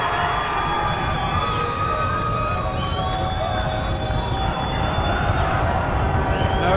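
Crowd noise fills a gym during a basketball free throw: a steady roar of many voices with shouts rising through it, close and loud, and no clear single speaker.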